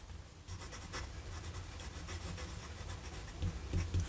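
Medium-nib Parker Jotter ballpoint-style pen scratching across paper with a wet Diamine ink, a steady close rubbing and scratching of the nib with short strokes and pauses, no talk.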